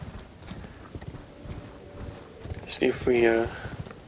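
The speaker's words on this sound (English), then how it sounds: "I was trying to get on the horse." Horse hooves clip-clop in the open-world video game Elden Ring, a light steady patter of steps in the background, briefly joined by a clearer burst of hoofbeats and a whinny-like sound, with someone speaking a few words.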